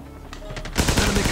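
Rapid automatic gunfire from Call of Duty Mobile, loud and close, bursting in after a quieter opening with a voice talking over the game sounds.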